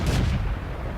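A tank cannon firing in World of Tanks, a single heavy booming blast with a rumbling tail that fades over about a second, loud and close.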